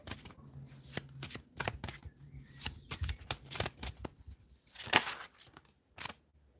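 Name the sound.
shuffling tarot cards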